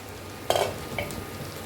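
Masala roasting in a pan, a brief sizzle and scrape as it is stirred, then a soft steady hiss of frying, close and moderately loud with no talk.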